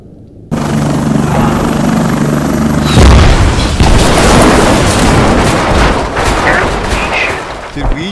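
A tank shell explodes in the military video game Squad with a loud boom, followed by a dense roar of blast rumble and scattered gunfire that fills the rest of the moment.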